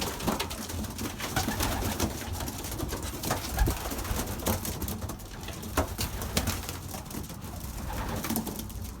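Several Belgian racing pigeons coo softly and repeatedly in overlapping low calls, with occasional wing flutters and rustling nearby, no one speaking.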